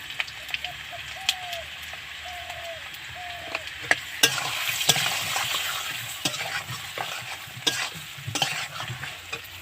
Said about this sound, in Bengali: দেখো আলুগুলো ভালো করে ভাজা হয়ে গেছে এবার দিয়ে দিলাম পরিমাণ মতো হলুদ